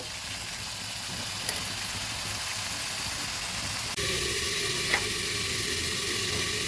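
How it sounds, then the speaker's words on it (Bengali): Spices frying in a pan for a kabuli chickpea and paneer dish give a steady, close sizzle throughout, with a faint clink of stirring midway. "মশলাগুলো ভালোভাবে ভেজে নেব"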